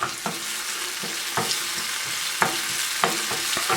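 Garlic and onions sizzle steadily in a hot pan for patatas bravas, with a soft continuous frying hiss broken by a few sharp scrapes and clacks as they are stirred.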